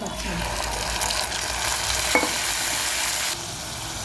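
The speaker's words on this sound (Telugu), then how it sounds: "నూనె కాగాక ఆవాలు వేసుకోవాలి. తర్వాత ఎండుమిర్చి, తర్వాత కట్ చేసి పెట్టుకున్న ఉల్లిపాయ" Mustard seeds, dry red chillies and chopped onion sizzle loudly in hot oil, a steady dense crackle with a spoon scraping and stirring through it, and a brief clink partway through.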